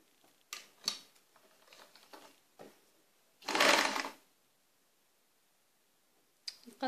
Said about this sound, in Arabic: ونكمل الخياطه.